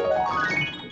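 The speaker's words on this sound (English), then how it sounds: "basically I'm taking the back of my hand and playing the black keys" A piano glissando swept across the black keys with the back of the hand, playing a pentatonic scale as a fast blurred cascade of notes, loud and close, fading at the end.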